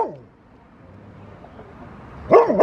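A dog lets out a short burst of loud barks near the end, following a stretch of quiet with faint background noise and a person speaking softly at the start.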